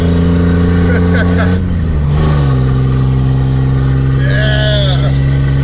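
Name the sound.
slow car engine at full throttle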